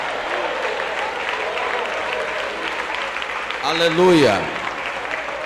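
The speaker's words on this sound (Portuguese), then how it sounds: "Quero ouvir palmas misturado com glória a Deus." A church congregation claps steadily throughout, a dense even wash of applause, while a voice briefly calls out over it near the end.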